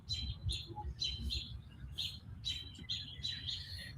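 Robins chirping in an awning above a back door, repeated short high tweets in quick bursts over a low background rumble, close and fairly clear.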